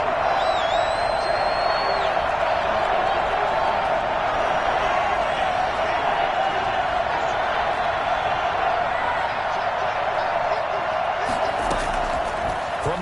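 Stadium crowd roar at Arrowhead during an NFL football game between the Broncos and Chiefs, a dense, steady wash of massed voices filling the space without letup, with a brief louder burst near the end.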